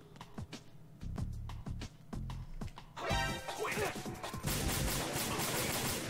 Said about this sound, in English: I went from shooting targets to now shooting people